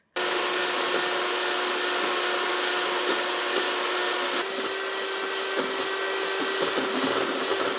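An electric hand mixer whirs steadily at high speed as it beats a bowl of egg whites to stiff peaks, a constant close motor drone with no talk.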